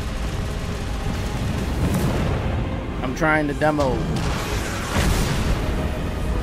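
Explosions in the Stellar Blade demo on PS5, deep booming bursts rumbling under ongoing game noise, while someone talks over them.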